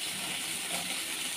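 Onion and garlic sizzle in a hot pan with a steady, bright, hissing fry that stays even and close throughout.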